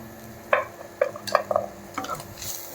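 A spoon stirs ground black pepper into butter pepper chicken pasta in a pan, with a handful of soft scraping strokes and light clinks over a gentle sizzle, close and unhurried.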